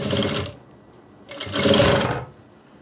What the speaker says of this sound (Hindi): इसके लिए सिंपल लेस को वैसे ही रखना है, ये देखिए, और यहाँ सिलाई लगाएंगे हम।